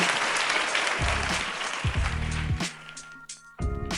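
A few people clap their hands together in short bursts, a near, loud patter of claps with brief pauses between rounds.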